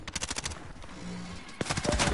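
Rapid assault rifle bursts in a Call of Duty match, sharp repeated shots in quick rhythm, a short pause, then another burst, fairly close and loud.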